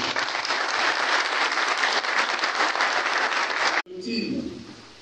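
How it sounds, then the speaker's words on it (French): Audience applause at a sports event honoring the main sponsor, a full, loud, continuous crowd ovation that stops abruptly, followed by a voice over the room. "Il est là, vous devez l'applaudir"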